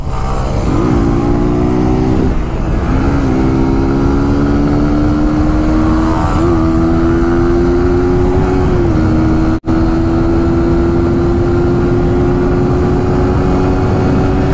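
A motorbike ridden at high speed, its engine droning loud and close with a steady high-revving tone that climbs slightly as it accelerates, heavy wind rush underneath and one brief dropout.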